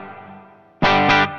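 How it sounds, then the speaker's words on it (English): A guitar plays through the reverb of an Atlantic effects pedal, a soft sustained tone followed by a loud strummed chord that rings with a lingering wash before cutting off. "This is the reverb on the Atlantic."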